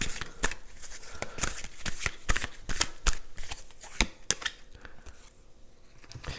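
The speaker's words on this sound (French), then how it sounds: "On a rajouté une carte ici." Tarot cards shuffled and laid out on a table, a close rapid run of crisp riffling clicks and slaps, busy at first and easing off near the end, with no talk.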